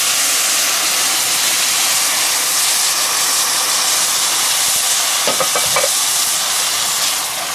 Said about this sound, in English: As soon as that's all stirred in, add a can of beef consomme.